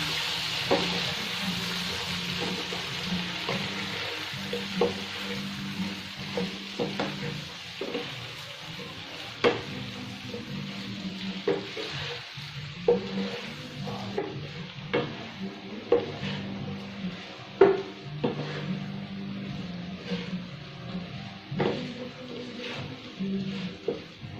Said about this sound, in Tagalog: Stir fry the shrimps.